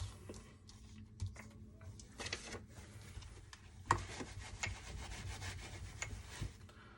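Tarot cards are shuffled and handled close up, making soft, continuous rubbing and sliding with scattered light flicks and taps throughout, fairly quiet and with no voice.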